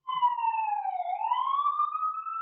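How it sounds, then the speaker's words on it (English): A siren sounds outside a window in New York City: a loud, clear wailing tone that dips and then rises again, steady and near, with no talk over it. "That's a sirens outside my window."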